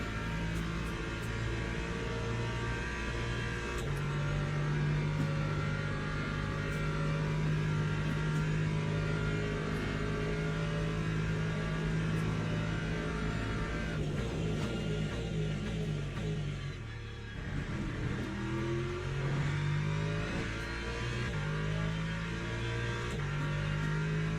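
McLaren race car engine in the Le Mans Ultimate racing game: a continuous droning whine that rises and falls through gear changes, dipping briefly once before climbing again, loud and steady without speech.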